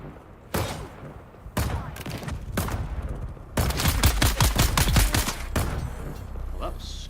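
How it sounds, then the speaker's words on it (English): Rapid bursts of gunfire in Dune: Awakening, loud and close, with single shots early on and then a dense run of fast automatic fire; a voice speaks over parts of it. "Stop shooting at me while I'm trying to..."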